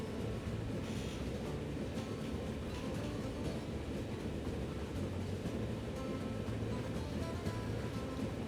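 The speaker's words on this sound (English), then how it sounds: "So now we just wait for this train to reach Reno" Train running in the video game Transport Fever 2, a continuous rhythmic rumble and clatter of wheels on rails, steady and moderately loud with no voices.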